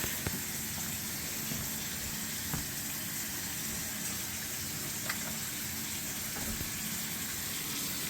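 Tap water runs steadily onto a kitchen sink flange during a leak check, a faint, continuous hiss and splash with occasional small clicks and no talking.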